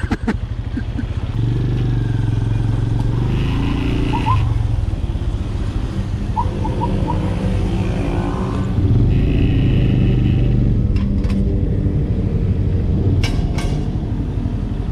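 A Benelli Imperiale 400 motorcycle being ridden, its single engine droning steadily and loudly throughout with gear changes and rising revs, along with wind rumble and faint clatter, and no talk.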